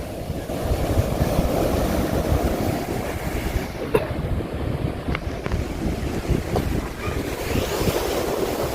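Surf washes onto a shore in a steady low roar, with wind buffeting the microphone and a few brief knocks.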